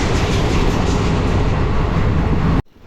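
Express passenger train heard from inside an unreserved coach: a loud, continuous rumble with faint rhythmic clatter of the wheels, cutting off abruptly near the end.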